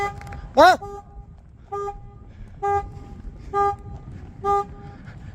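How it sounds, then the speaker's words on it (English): Short car horn toots repeat about every second in a steady series, loud and close, over low street rumble. "Stop honking at me."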